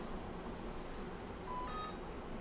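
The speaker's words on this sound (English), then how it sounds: "That's the camera beeping if you heard that." A brief, faint electronic beep pattern from a camera, a few thin tones sounding over steady background noise.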